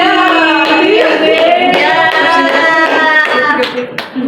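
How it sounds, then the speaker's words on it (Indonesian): A group of students claps hands in an Indonesian classroom during a micro-teaching practice session, loud and close, with overlapping voices and sung or chanted tones running through the clapping. "Oke, betul tepuk tangan."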